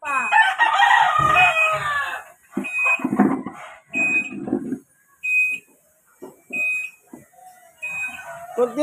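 A rooster crows loudly and nearby on a street corner in Tondo, Manila, one long drawn-out call, followed by clucks and street noise with a repeating electronic beep and a few voices.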